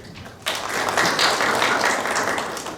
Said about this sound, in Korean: 우리 유용 교수님은 큰 박수 맞이해주시고